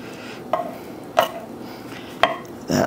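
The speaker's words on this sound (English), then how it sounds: "So I'm gonna just slice a few slices here." Knife cutting slices from a piece of smoked jerk pork, four short crisp strokes against a board at a steady pace, close and fairly loud with no talk.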